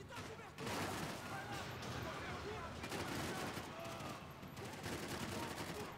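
Gunfire in the video game Max Payne 3, a dense, continuous barrage of shots and impacts that goes on throughout, with voices mixed in under the noise.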